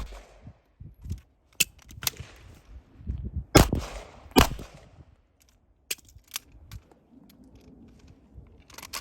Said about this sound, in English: 2 shots, big circle, conduct a reload, and then transition to the secondary target, 2 shots, and then clear and make safe.